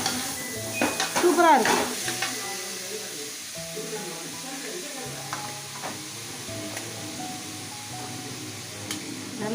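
Three-quarters of a kilo of mutton sautéing in a pan for gravy, with steady sizzling and a burst of stirring scrapes near the start, while someone talks over it.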